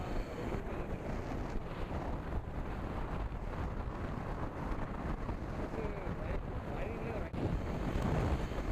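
Strong wind roars steadily across the microphone while riding a Yamaha R3 motorcycle along a windy stretch lined with windmills, a dense continuous buffeting rush that stays loud throughout.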